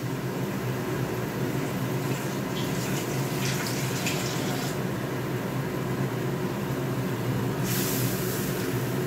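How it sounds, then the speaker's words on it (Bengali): Water being poured into a pan of Jyoti potatoes cooking in oil, a continuous rushing, bubbling hiss that holds steady for several seconds, near and fairly loud with no talking. "এবার একটু অল্প পরিমাণ মতন জল দিয়ে দেবো"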